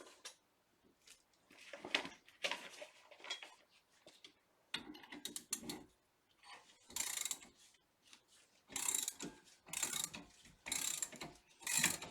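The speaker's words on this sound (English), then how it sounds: "so that's spreading the brake pads out" Spreader tool pushing apart brake pads on a Porsche 987 caliper, producing irregular ratcheting clicks and mechanical creaks in short bursts with pauses, close and fairly quiet.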